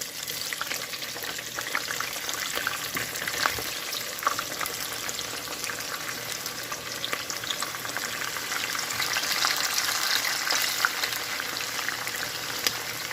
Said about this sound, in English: So inside the oil, I'm going to be putting my onions.